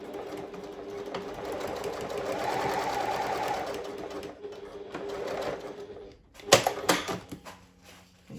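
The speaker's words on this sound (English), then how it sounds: "So I'm going to fold in half and sew that 1/2 centimeter seam allowance" A sewing machine stitches a half-centimetre seam on a folded zipper tab, a fast continuous whirring run for several seconds, then a pause followed by a few sharp clicks and clunks.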